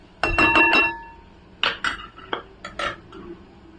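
A metal lid clatters onto a cooking pan of peas and spinach in a home kitchen, giving a cluster of sharp clinks followed by a few softer knocks and rattles, close and alone without talk.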